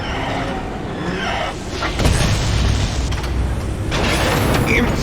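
A radome blows up in Metal Gear Solid, a loud crunching explosion with a rumbling mechanical roar and debris clatter that keeps going for several seconds.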